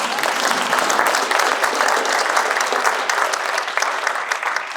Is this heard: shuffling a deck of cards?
no